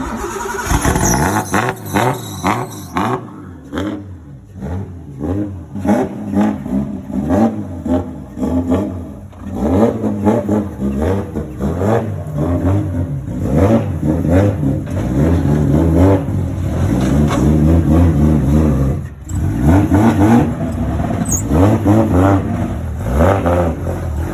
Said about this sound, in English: Now press the start. You're going to have to put some throttle in.